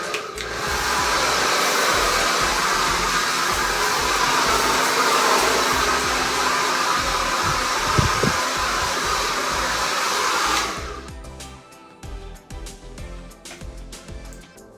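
A hair dryer blows hair in a salon layering session, a loud steady whooshing hum running about ten seconds before cutting off, leaving faint handling clatter.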